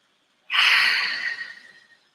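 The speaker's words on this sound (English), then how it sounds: "let's just take a moment to take a deep breath together" A single long, audible inhale through the nose, close and fairly loud, rising sharply then fading over about a second and a half, taken during a guided meditation.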